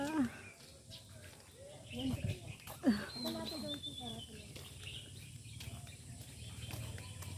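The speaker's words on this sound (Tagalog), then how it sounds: "Diba naririnig din yung mga huni ng ibon?" Birds chirp with short, faint calls on Lamma Island, a small Hong Kong island, scattered amid outdoor background noise and people talking nearby.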